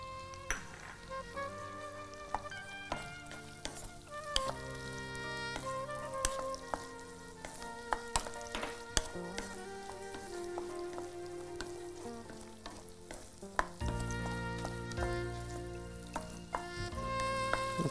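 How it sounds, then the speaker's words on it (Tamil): Capsicum sautés in melted butter, a steady sizzle of frying vegetables running through a cooking segment with music playing over it throughout. "கொடை மிளகாய் நல்லா வந்து இந்த வெண்ணெயில் வதங்கணும்"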